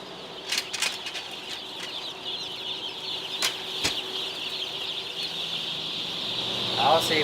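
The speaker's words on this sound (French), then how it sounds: "c'est beau les petits poussins quand ça arrive, là" Newly hatched chicks cheeping in high, thin chirps, scattered and moderately close over a soft background hiss, with a few louder knocks and a brief flurry of rustling near the end.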